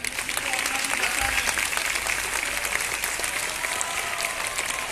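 Crowd applause at a school student talent event, continuous clapping throughout with faint voices and background tones beneath.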